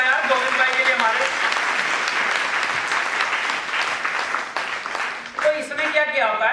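A seated audience at a motivational talk claps for Govind bhai, producing a loud, continuous wash of applause with a voice speaking over it throughout and briefly coming forward near the end.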